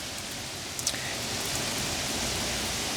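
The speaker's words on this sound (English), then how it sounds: "as I leave you with the rain" Steady rain pours down, a dense even hiss with no voices, one faint tap standing out briefly near the start.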